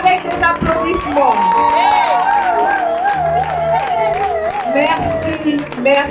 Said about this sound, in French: Par nos applaudissements, rendons hommage au cinéma congolais